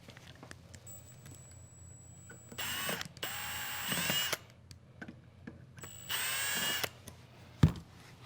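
Cordless power drill backing out a Phillips screw inside a 2006-2009 Dodge Ram truck cab, three close whirring bursts of a few seconds each with small clicks and a knock between them.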